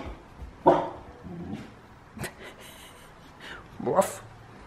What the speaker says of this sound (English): He hardly ever barks except when he thinks he has to defend.